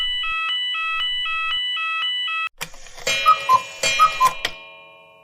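A school fire alarm sounds in a rapid repeating electronic beep pattern and then gives way to a jumble of clattering sounds with several sharp tonal blips.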